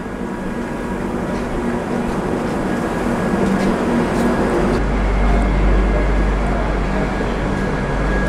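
Jalpaiguri Road–Sealdah Humsafar inaugural special train at Ranaghat Junction station, a loud continuous rumble and roar of the train at the platform with steady mechanical hum and crowd noise, no clear voices standing out.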